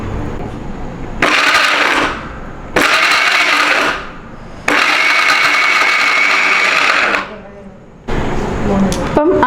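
An electric mixer grinder pulse-crushes dried fish with onion in short loud whirring bursts: four pulses of uneven length with brief pauses between them, the motor spinning up sharply each time and winding down between presses.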